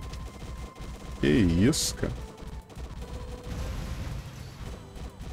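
Rapid gunfire in the arcade shooter Progear rattles continuously amid busy game effects and a swooping electronic burst, while someone speaks briefly over it.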